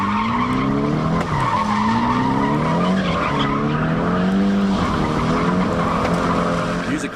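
Drift car spinning tight donuts, a loud steady engine howl rising and falling in pitch under continuous skidding tire noise, with no pauses throughout.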